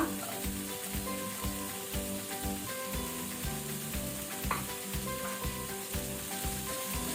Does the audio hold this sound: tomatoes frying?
yes